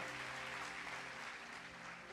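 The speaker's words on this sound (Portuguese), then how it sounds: "Você pode aplaudir ao seu, meu Deus é maior" A church congregation applauding during a sermon, a steady, faint wash of many hands clapping that goes on without a break, heard from a distance.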